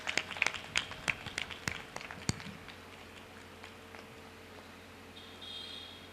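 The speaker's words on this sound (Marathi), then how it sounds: "आपण टाळ्या वाजवायला काही हरकत नाही." Audience applause at a hospital ceremony opening a pediatric ICU, a short burst of scattered claps in the opening two seconds that quickly thins out, leaving a quiet room hum.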